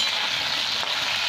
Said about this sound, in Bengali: দিয়ে ভেজে নিচ্ছি